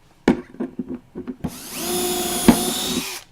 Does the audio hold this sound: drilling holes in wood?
yes